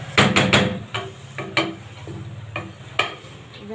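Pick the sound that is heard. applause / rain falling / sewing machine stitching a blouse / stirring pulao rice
stirring pulao rice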